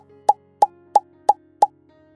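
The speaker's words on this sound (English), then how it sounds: "I put 1 portion into ice cube trays like this, with each compartment just enough for 1 cooking session." Minced garlic drops into ice cube tray compartments with five crisp, evenly spaced plops about a third of a second apart, close and loud with nothing else heard.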